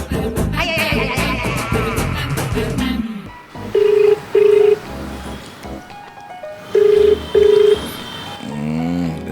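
A telephone call rings through, with two paired bursts of steady ringing tone standing out over busy background noise and music, each pair followed by a pause.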